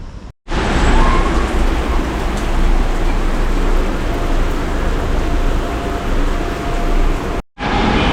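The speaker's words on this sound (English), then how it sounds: "It was quite raining" Heavy rain pouring on a city street in Changsha, Hunan, a dense, loud, continuous hiss with low rumble underneath, steady throughout with no voices.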